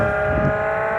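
Ola S1 Pro electric scooter accelerating in Bolt mode, a steady synthetic motor whine with stacked sustained tones, loud and close, continuous for the whole second with no talk.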